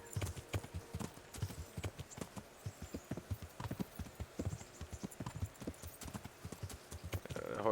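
Horse hooves clip-clop steadily in Kingdom Come: Deliverance, a quick rhythmic trot of crisp close hoof strikes continuing throughout.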